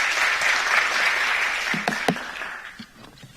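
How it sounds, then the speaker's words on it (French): Audience at an inauguration ceremony applauds in a dense, even wash of clapping that tapers off near the end, with a few isolated knocks on stage. "Sous vos applaudissements, bien sûr."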